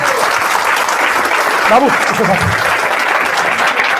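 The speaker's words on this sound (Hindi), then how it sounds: "ताली बजा दीजिए।" An audience at a business seminar claps in a steady, dense burst of applause that runs throughout, with a voice speaking over it.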